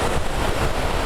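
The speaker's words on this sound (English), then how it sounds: "Oh, this is where the river is." The silty Whangaehu River in New Zealand rushes in a steady, broadband roar, close and loud with wind buffeting the microphone, no voices over it.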